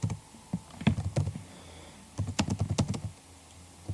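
Fingers tap out a short greeting on a computer keyboard, two quick bursts of close, crisp keystrokes separated by a brief pause, with no voice over them.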